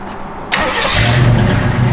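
A 1970 AMC Javelin SST fires up halfway through, its engine catching abruptly and settling into a loud, steady, close-up idle with a deep rumble that holds to the end.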